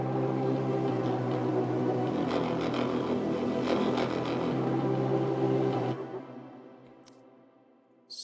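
Break section of a frenchcore remix made in Ableton: a sustained, distorted synth pad drone with no kick, holding steady for several seconds before dropping away into a fading tail.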